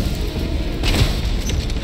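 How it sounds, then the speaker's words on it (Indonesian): A fuel tank blows up during Resident Evil 3 Remake gameplay, a dull low boom swelling near the middle of a steady, noisy game soundscape, with no talk over it. "itu tankinya udah meledak"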